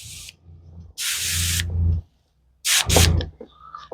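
An electric demand pump feeds a hose sprayer spraying hydrogen peroxide onto wood, giving loud hissing bursts of spray, two longer and one shorter, with a low pump hum underneath and quiet gaps between.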